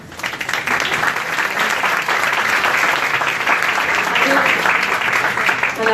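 An audience at a startup pitch marathon event applauds the presenters, sustained dense clapping that stays loud and even throughout, with a voice speaking over it near the end.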